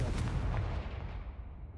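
A Confringo fire spell explodes in the Hogwarts Legacy video game as a heavy, booming blast that fills the sound and then slowly rumbles away, loud and close with no talking.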